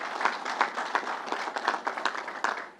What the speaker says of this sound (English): Let's give Matty a round of applause.